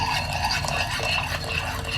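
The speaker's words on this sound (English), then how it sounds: "then I just pour in the milk." Heated almond milk pours into a cup in a soft, steady stream, close and fairly quiet, with no voices.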